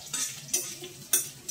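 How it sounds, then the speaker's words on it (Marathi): Garlic, chilli and cumin sautéing in hot oil for an okra dish: a continuous soft sizzle with a few sharp scraping strokes of a spoon stirring in the pan, close and brief. "तेलामध्ये परतून घेण्याचं काम चालू आहे."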